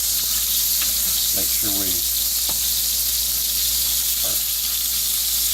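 Sausage frying in a pan for shakshuka gives off a steady, close sizzling hiss throughout, with a voice talking briefly over it.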